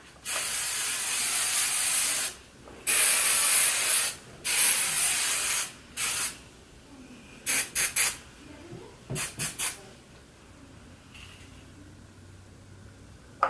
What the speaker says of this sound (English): So now I'm going to set it with Extreme Hold Hairspray.